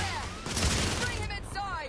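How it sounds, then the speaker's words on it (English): Suppressing gunfire in the video game The Order 1886 comes as a rapid burst of shots and booms over a battle din, with shouting voices mixed in. "Lay down suppressor fire!"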